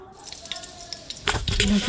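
Ghee heating in a pan on the stove while ghee rice is made for Kerala biryani, a soft crackling sizzle that starts faint and grows louder and denser in the second half.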